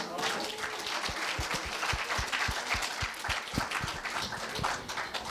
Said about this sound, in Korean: 좋은 발표해준 노현치 학생에게 박수 부탁드립니다